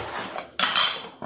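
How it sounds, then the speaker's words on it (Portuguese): Dishes and cutlery are washed in a kitchen sink: running water hisses steadily while a few sharp clinks of utensils and plates ring out close by, with no talking. "Vou lavar essa louça agora."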